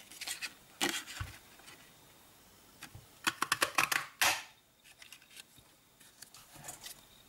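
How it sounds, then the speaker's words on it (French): Paper being cut with a coordinated craft paper punch, a few scattered crisp snaps and rustles, then a quick cluster of sharp clicks and a louder crunch, followed by quieter handling of the paper, close up and with no talking. "je vais simplement venir le découper à l'aide de ma perforatrice coordonnée"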